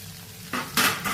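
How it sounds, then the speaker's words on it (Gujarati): Potatoes dropped into hot oil for tempering with coarsely crushed coriander and cumin give a sudden loud sizzle that flares up in bursts, close and alone, with no voices. "અહીંયા આપણે બટેકાનો વઘાર કરી દેવાનો છે."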